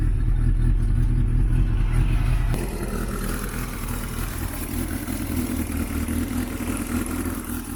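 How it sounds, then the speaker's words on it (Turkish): A Tofaş Doğan turbo engine runs while its cold start is being tuned. A louder low rumble drops to a quieter, steady idle with a mechanical clatter, close by and without speech. "Şu an ilk marş soğukta çalışmasını ayarlıyorum."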